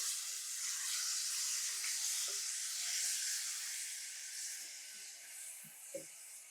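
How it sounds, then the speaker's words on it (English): Shrimp and vegetables, including scallions, parsley, red and green pepper, onion and garlic, sautéing in a pot for curry shrimp, a steady close hiss and sizzle with a few small pops near the end. "And then we put the shrimp and the vegetable in the pot to saute up together."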